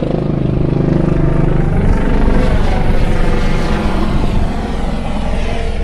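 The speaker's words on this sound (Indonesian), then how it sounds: "ada helikopter" A helicopter passes overhead, its loud rotor thumping and engine roar filling the scene at close range, swelling and holding steady throughout with no talk over it.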